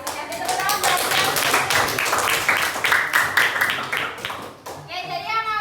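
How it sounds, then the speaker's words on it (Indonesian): Classroom of high school students clapping for a classmate, a sustained patter of many hands with children's voices mixed in, fading near the end. "Tepuk tangan buat Kevin."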